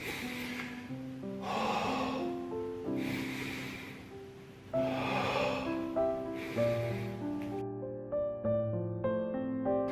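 Slow, deep breathing in a belly-breathing exercise with books resting on the abdomen: about four long, loud, close inhale-exhale rushes at a steady pace, with tonal background music running underneath and no speech.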